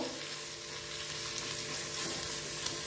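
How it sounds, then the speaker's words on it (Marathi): Puffed rice sautés in a hot pan with a soft, continuous crackling sizzle and faint stirring rustle, fairly quiet and even throughout. "हे चांगलं परतून द्यायचे आपल्याला।"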